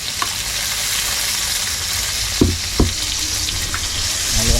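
Garlic and onion frying in a pan, a steady close sizzle throughout with a few soft stirring knocks and scrapes.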